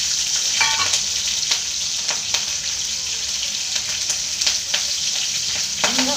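Garlic, cumin and green chillies sizzle steadily in hot oil for kadhi, a close, continuous frying hiss broken by occasional light stirring clicks.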